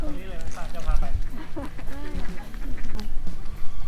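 Duck quacks repeat amid busy outdoor noise and talking voices at Floyd Lamb Park fishing ponds in Las Vegas, the calls coming in short nasal bursts close by.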